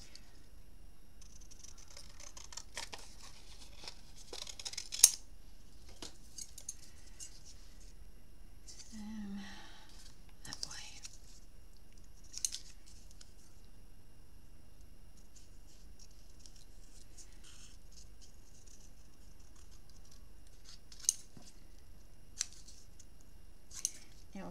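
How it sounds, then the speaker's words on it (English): Scissors snip through a paper swing tag in a quiet room, giving a handful of crisp, scattered cuts with pauses between them, near and soft. "Let's just cut it out and try it anyway."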